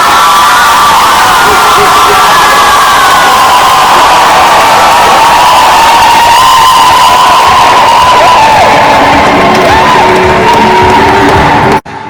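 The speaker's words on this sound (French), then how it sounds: "Sous vos applaudissements." Loud, close cheering and clapping from a wedding audience after the couple's kiss at a nuptial blessing, whoops and children's shouts rising over sustained applause before an abrupt cut.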